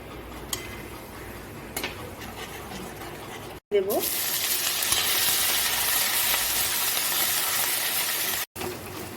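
Kashmiri red chili dropped into hot frying spices for stuffed aloo dum, a quiet lead-in with a few ticks before a sudden loud, bright sizzle that holds steadily and then cuts off briefly near the end.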